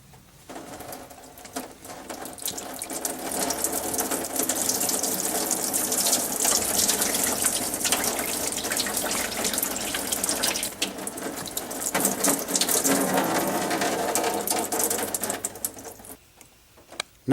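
Engine coolant from a 2003 Suburban draining out of a loosened radiator hose into a bucket, a steady splashing, hissing pour that runs continuously for a long stretch before tapering off.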